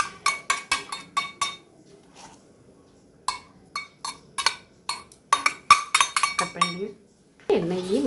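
Rice puttu being mixed with oil and roasted cashews in a metal vessel, a spoon knocking and scraping in quick clattering runs with pauses, then a short scraping sound at the end.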